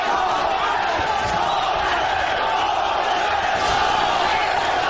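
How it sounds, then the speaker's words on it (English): Boxing crowd at a professional prize fight in Sacramento chanting a fighter's name, Lopez, in a dense, sustained roar of many voices that fills the arena throughout. "Crowd chanting Lopez, Lopez,"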